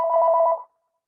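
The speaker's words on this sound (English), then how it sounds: "these phones keep ringing" A single short telephone ring during an online gathering, a clean two-tone electronic trill lasting about half a second before cutting off into silence.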